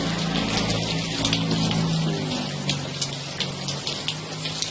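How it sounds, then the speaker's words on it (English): Steady, dense rain patters and hisses continuously nearby, with droplets splashing on a hard surface and a low hum underneath. "It is absolutely pouring rain here this morning."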